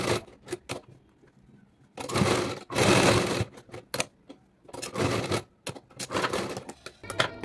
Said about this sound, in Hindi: अब हम प्रेस स्टिच लगा देंगे ताकि जैकेट की फिनिशिंग बहुत अच्छी आए।